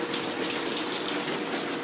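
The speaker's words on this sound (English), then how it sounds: "Yeah, you can see it dripping right there." Rainwater leaking through a roof during a downpour, dripping and running steadily with a continuous close splashing, gushing wash and no talk.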